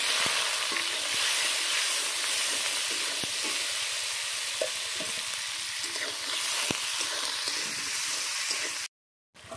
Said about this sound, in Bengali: টমেটোর পেঁয়াজটা হালকা করে ভেজে নিয়েছি